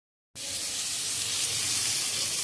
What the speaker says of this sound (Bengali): সিদ্ধ এঁচড়গুলোকে আমি এই তেলের উপরে ভালো করে ভেজে নেবো